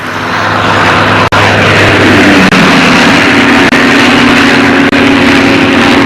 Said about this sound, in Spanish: El ruido de los motores sin silenciadores era constante e intenso.